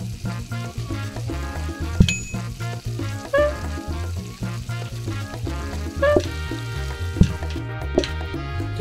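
Steak sizzling on a grill in a diner-style cooking video game, a steady frying hiss layered over looping game music with occasional sharp chimes and clicks, no talking.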